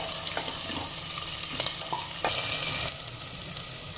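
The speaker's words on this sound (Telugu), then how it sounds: "టమాటోలు ఉల్లిపాయలు వేగుతూ ఉన్నాయి కదా" Tomatoes and onions fry in a pan for dal khichidi, giving a steady close sizzle with a few light scrapes and clinks from stirring, with no voices.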